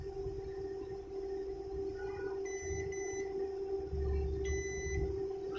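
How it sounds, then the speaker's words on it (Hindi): A multimeter in diode mode gives a steady, unbroken beep with its probes on the drain and source of a MOSFET from a laptop board, a fairly faint continuous tone over low background rumble. "मल्टीमीटर में बीप की साउंड आ रही है"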